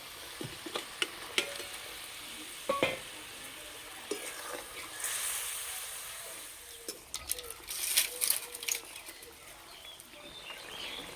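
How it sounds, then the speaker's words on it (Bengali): Gravy for a Bengali shrimp-stuffed pointed gourd dolma bubbles and sizzles quietly in a pan while the gourds go in, with scattered clinks, knocks and stirring noises over the soft simmer. "ঝোল ফুটে গেছে, বা পটলগুলো দিয়ে দেব।"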